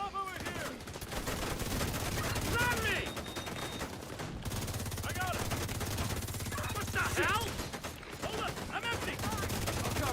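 Gunfire from The Division 2 in a dense, continuous stretch of loud shots and bursts, with a few sharp ringing impacts layered over a steady low rumble and no pauses.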